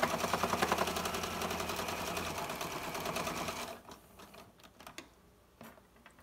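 A sewing machine stitches a zipper pouch in a fast, rapid-fire rhythm for several seconds, then stops, leaving a few soft handling clicks and knocks.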